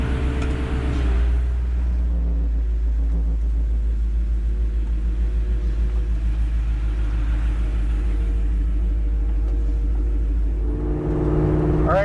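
A 1989 Ford Ranger engine cranks and catches, then idles with a steady low rumble close by, revving briefly again near the end; no talking.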